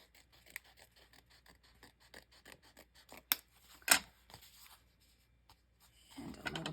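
Scissors snip card stock for a handmade card in a string of small quick cuts, with a couple of louder sharp snips and a soft rustle at the end.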